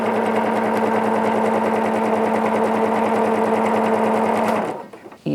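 A sewing machine runs steadily while stitching a concealed zipper, a loud fast even mechanical whir and rattle that runs unbroken and then winds down and stops near the end, close up and alone.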